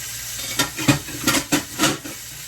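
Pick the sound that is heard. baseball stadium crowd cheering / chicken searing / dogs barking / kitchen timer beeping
chicken searing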